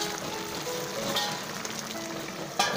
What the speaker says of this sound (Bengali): এরপরে আমি কাঁচা লঙ্কা তিনটে এর মধ্যে ছেড়ে দেবো, ছেড়ে দিয়ে একটু নেড়ে আবার ঢেকে দেবো।